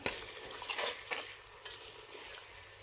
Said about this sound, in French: je suis en train de frire mon concentré de tomate. Je tourne de temps en temps pour ne pas que ça brûle.